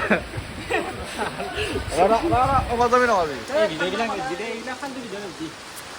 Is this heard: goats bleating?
no